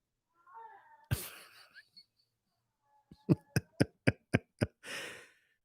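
An impatient pet cat lets out a drawn-out, wavering howl close by, followed by a quick run of short, rhythmic pulsing cries and one final breathy yowl, with silence between the calls.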